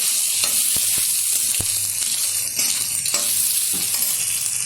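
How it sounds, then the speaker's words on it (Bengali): Fried paneer being stirred into spiced masala in a pan gives a loud, continuous frying sizzle, with a few sharp spatula knocks and scrapes throughout. "আবার একটু নাড়িয়ে চাড়িয়ে নিচ্ছি।"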